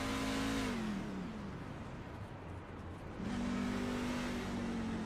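A racing truck engine on the Watkins Glen circuit in the iRacing sim, droning steadily at high revs, dipping as the driver lifts off, then climbing back up, continuous and fairly loud with no talk.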